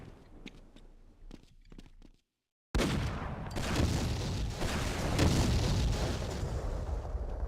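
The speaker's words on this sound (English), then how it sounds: "That's a rocket launcher." Rocket launcher fire in Half-Life, scattered sharp reports followed by a brief dead gap, then a heavy sustained roar of blasts and rumbling explosions that stays loud to the end.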